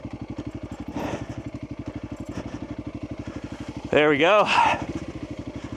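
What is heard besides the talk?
Honda CRF300L motorcycle riding off-road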